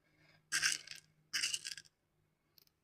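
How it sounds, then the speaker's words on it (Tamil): Mustard seeds drop into hot oil in a pan, giving two short bursts of bright sizzling crackle followed by a tiny faint pop, close and otherwise quiet. "கடுகு போட்டுக்கணும் கொஞ்சமாக."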